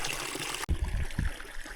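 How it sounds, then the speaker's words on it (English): A mountain stream trickles beside the Gulfside Trail in the New Hampshire mountains, a steady close splashing and burbling of water with brief louder gurgles. "Really good water source right there,"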